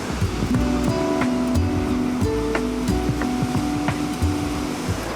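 Huge ocean waves break on the rocky reef at Thurso, Scotland, in a continuous loud roar of surf, with steady tonal music layered over the crashing water.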